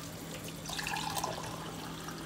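Two small cups of water are poured while cooking, making a quiet, brief splashing trickle over a low background hum.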